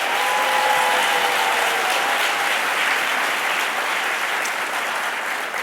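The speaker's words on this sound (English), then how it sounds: "A nice round of applause for him." Steady, dense applause from an event audience greets the president of Xavier University, filling the whole stretch at an even, loud level with no pauses.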